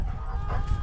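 Homestead hens around two years old, past their peak laying, cluck softly and close by over a steady low outdoor rumble in cold weather.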